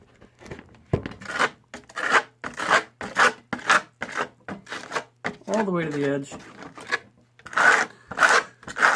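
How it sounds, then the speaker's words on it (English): A trowel scrapes and spreads a gritty sand aggregate coating for a faux hammered copper finish, a soft rasping rub running beneath a voice that talks almost continuously. "You can really hear that sand aggregate underneath as I scrape"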